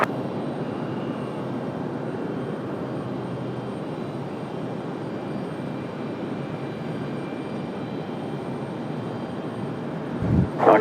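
An Airbus jet taking off from runway 23 left at Raleigh-Durham International Airport, a steady, broad engine roar held throughout at moderate distance, rising sharply at the very end.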